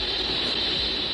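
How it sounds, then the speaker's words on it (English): Radio static picked up by the Bell Labs horn antenna at Holmdel, a steady broadband hiss with a strong high band, unbroken and even across the whole short stretch. "the horn antenna they're using picks up constant interference"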